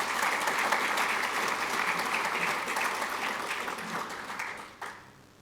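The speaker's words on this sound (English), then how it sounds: "I just want to give them a round of applause" Audience applause at a 2023 CIO Symposium, a dense, steady wash of many hands clapping for about five seconds, tapering and thinning out toward the end.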